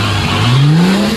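Diesel 4WD ute on 37-inch tyres revving hard and spinning its wheels off-road, a loud sustained engine roar rising steadily in pitch with tyre noise, close and continuous.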